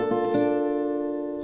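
An acoustic guitar plays a pattern with added notes, two quick plucks followed by a ringing, sustained chord that fades slowly, close and clean.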